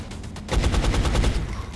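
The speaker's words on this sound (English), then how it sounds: "I'll take the shot." A gunshot rings out in the turn-based strategy game X-Com: Enemy Unknown. It opens with a few quick clicks, then a sharp, rapid rattling burst of fire that pulses for about a second and fades, and no one speaks.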